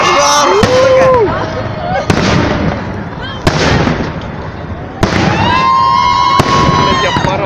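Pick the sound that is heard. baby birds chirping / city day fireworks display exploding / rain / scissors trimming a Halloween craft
city day fireworks display exploding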